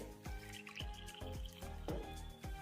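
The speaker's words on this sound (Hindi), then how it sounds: "जिस बर्तन से आपने बेसन लिया है उसी से आपको भर के पानी डाल देना है पहले" Water poured from a small vessel into a bowl of gram flour (besan) for batter, heard up close as a quick series of soft, rhythmic splashes and drips, quiet and alone.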